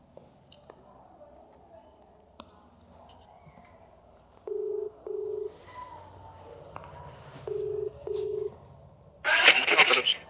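Two quick pairs of electronic dialing tones, steady and fairly loud, followed by a short burst of harsh noise at the end.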